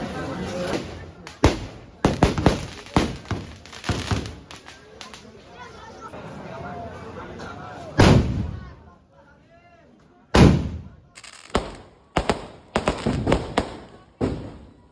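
Fireworks explode in rapid bursts of sharp bangs and crackles, some loud and close, with pauses and voices audible between volleys.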